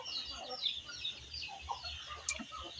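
Chickens cluck and chatter in a scattered, busy flock, fairly soft and continuous, with an occasional sharper squawk and no voices.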